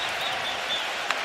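Toronto Raptors fans cheer in a basketball arena, a steady wash of crowd noise and applause that holds at an even level throughout, with one brief sharper peak near the end.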